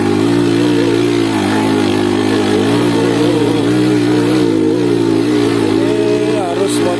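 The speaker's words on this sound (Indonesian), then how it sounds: "Ini harus motor yang memang spesifikasinya pas, gearnya sudah gear besar, gear belakangnya besar, gear depannya kecil." Motorcycle engine labouring steadily up a rough dirt road with sunken rocks, geared with a large rear sprocket and small front sprocket; a loud, continuous mid-pitched drone close by throughout, with a person talking over it.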